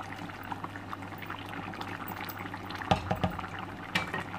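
Hot water, half a cup, is poured into a pot of cabbage and mutton, giving a short splashing pour with some bubbling sizzle.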